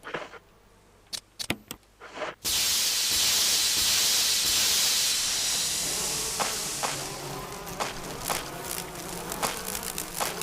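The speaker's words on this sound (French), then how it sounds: "je pense qu'on doit utiliser l'insecticide là, au moins on est protégé" A long, steady hiss of insecticide spray in Resident Evil begins abruptly after a few short clicks and runs loud and continuous to the end, with brief tapping sounds over it.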